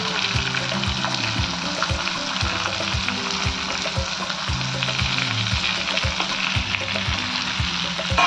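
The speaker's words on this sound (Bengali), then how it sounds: "এগুলো হালকা করে একটু ভেজে নেব।" Diced onion with green and red capsicum and ginger garlic paste frying in a pan, a loud, steady sizzle with occasional stirring scrapes and low clunks, no talking.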